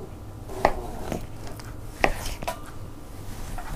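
Food is cut in half with a sharp knife on a board while a pressure-cooker meal is prepared, giving a few faint, separate knocks and chops over quiet kitchen background.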